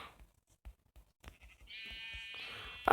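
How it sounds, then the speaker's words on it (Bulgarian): A sheep in the Minecraft video game gives one drawn-out bleat over soft, rhythmic game footstep thuds, then a brief louder clatter at the end. "Овца."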